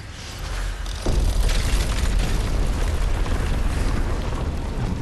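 The Stargazer machine powering up in the game Lies of P, a sudden loud low boom that swells into a sustained roaring, rumbling surge, heard alone without voices.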